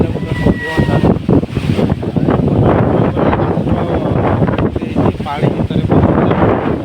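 Cyclone Dana's strong wind roars at Dhamra, buffeting the microphone in loud, continuous gusts while someone talks over it.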